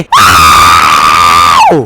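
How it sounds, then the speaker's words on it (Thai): Godzilla in the sandbox game People Playground lets out a single loud, sustained roar, steady and piercing for almost two seconds before dropping off abruptly. "เอาล่ะกอซิล่าคำรามมันหนึ่งที"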